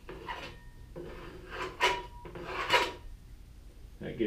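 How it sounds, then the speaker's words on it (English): A tool scrapes clay walls flat against a board on a table in a series of rasping strokes, each several tenths of a second long, that come close and fairly quiet with short pauses between them. "straighten out the walls and make them 90 degrees to the board by just putting it flat on the table and scraping the clay"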